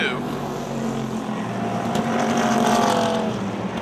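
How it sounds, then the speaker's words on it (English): Race cars roar around the Motordrome Speedway oval during a late-summer 2005 race, with a sustained engine drone that swells toward the end while a commentator talks over it. "now another battle on the speedway, the 11 machine driven by Victor Keller and the 32 of Dan Jordan, racing closer together than the leaders"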